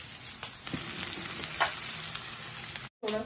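Green chilies and cashews frying in a pan give a continuous close sizzle with faint crackles and light stirring. The sizzle cuts out for a moment near the end, then resumes.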